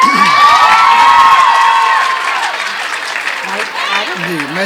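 An audience at a girls' college mushaira in Faisalabad breaks into loud applause mixed with cheering and shrill youthful whoops, a dense crowd sound that slowly thins as voices call out over it.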